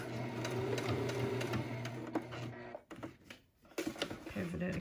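A sewing machine stitches a reinforced fabric face mask in a steady, close, motor-driven run. The stitching breaks off briefly near the end, then resumes for a short backstitch.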